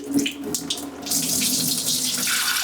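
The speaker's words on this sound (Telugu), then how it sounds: "మంచిగా ఒక 2 సార్లు పప్పుని వాష్ చేసేసుకోండి" Toor dal being washed in a vessel under running tap water, with sloshing and splashing that becomes a steady, loud rush of water in the second half.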